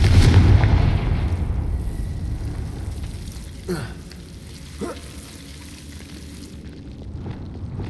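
A Confringo fire spell in the Hogwarts Legacy video game goes off as a loud, booming blast at the start, fading into a crackling rumble with a couple of short whooshing swishes afterward.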